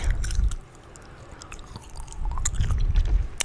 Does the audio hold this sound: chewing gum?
yes